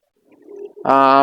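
A domestic pigeon in a bamboo cage gives a soft low murmur that swells into one loud, close, sustained coo.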